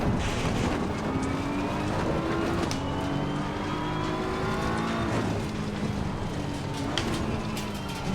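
Race car engine of a BMW M4 GT3 in the racing game Assetto Corsa Competizione, a loud, steady drone with rising and falling pitch as it runs up through the gears, continuous with no talk.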